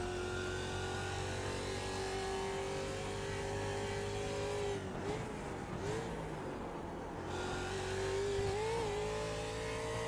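Race car in iRacing at the Zolder circuit, a loud, close engine holding a steady high drone, briefly dipping and shifting pitch mid-way as it brakes and downshifts, then revving back up.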